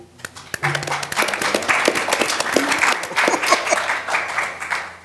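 Audience applause at a public presidential debate session in Chicago, a steady wash of clapping rising after an opening burst and holding for several seconds, with scattered sharp individual claps and some murmuring voices mixed in.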